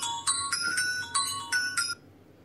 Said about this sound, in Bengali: মুঠো ফোন বাজছে রাজীবের